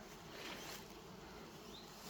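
A faint, steady hum of buzzing bees working goldenrod in hot weather, soft and continuous, with no voices.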